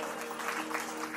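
Audience applause at a Ram Katha religious gathering, a brief burst of dense clapping from a seated crowd, heard from a moderate distance with faint voices underneath.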